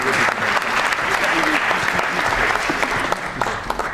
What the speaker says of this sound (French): Merci de l'applaudir une nouvelle fois,